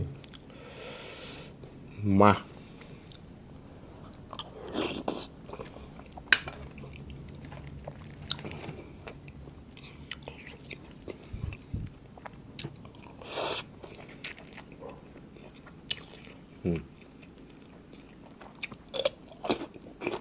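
Someone chews crispy braised pork leg, with scattered crunches and wet bites spread over the stretch, close and fairly quiet, with brief murmured speech now and then.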